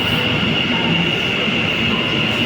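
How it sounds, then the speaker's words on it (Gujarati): An Ahmedabad metro train pulls in with a loud, steady rumble and a high sustained whine, a continuous mechanical roar close by on the platform. "જો મેટ્રો આવી ગઈ તો."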